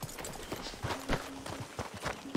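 Horse hooves clip-clopping in Red Dead Redemption 2, a handful of soft, uneven thuds at a slow walking pace, fairly quiet and close, with faint background noise between steps.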